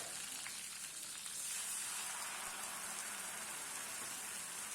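Washed curry leaves frying in hot oil in a pan for lemon rice, giving a steady, dense crackling sizzle that grows slightly louder after the first second and continues close up with no voices.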